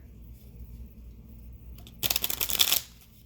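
Tarot cards get a quick riffle shuffle, a close, crisp rattling burst lasting under a second after a quiet stretch.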